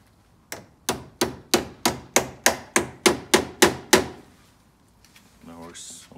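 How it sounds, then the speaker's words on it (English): A small hammer taps trim clips on a 2007–2013 R56 Mini Cooper S grille into place, about ten sharp, evenly spaced close knocks, followed by a brief rustle. "I've decided to get a little hammer to help with this."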